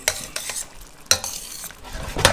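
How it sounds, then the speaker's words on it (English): Spoon stirring and scraping a creamy butter sauce in a sizzling pan for honey garlic shrimp, several sharp metallic scrapes at irregular intervals over a soft constant sizzle, close up, no talking. "slowly let this beautiful creamy butter emulsify"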